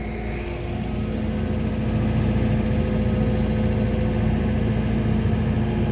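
A John Deere tractor drags a TR3 drag over a gravel driveway, scarifying the surface with a steady loud engine drone and a continuous gravelly rumble, with no voices.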